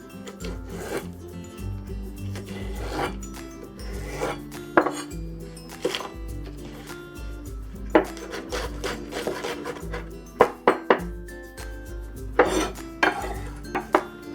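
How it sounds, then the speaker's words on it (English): Knife mincing green onions on a wooden cutting board, with irregular close taps and scraping rubs building into quick clustered chops, and no talking. "Next, we'll mince the green onions."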